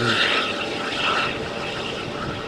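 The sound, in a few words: Vueling or Wizz Air jet departing Malaga Airport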